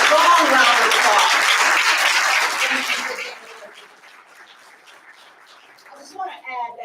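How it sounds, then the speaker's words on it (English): Strong round of applause from an audience at a community college Black History Month program, loud and dense for about three seconds before fading to scattered claps and murmuring voices. "Strong round of applause."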